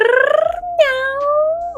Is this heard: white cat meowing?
yes